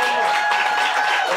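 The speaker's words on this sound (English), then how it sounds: "Round of applause for all our poets." An audience claps for poets after a reading, a dense and steady wash of applause that stays loud and close throughout.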